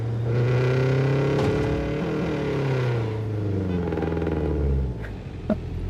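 Subaru WRX engine revving in the game Neverness To Everness, a steady low drone rising and falling in pitch through several rev swells, fairly loud and continuous, easing off near the end with a small click.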